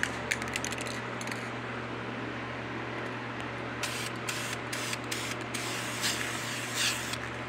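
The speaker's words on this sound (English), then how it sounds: "Now, I'm gonna give it one more quick little coat." A quick second coat of spray paint on raised engine lettering hisses in several short bursts over a steady low hum, with no talking.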